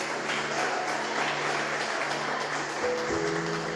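A church congregation claps for their pastors in a steady, sustained round of applause, fairly loud and even throughout, with faint tonal sounds underneath near the end.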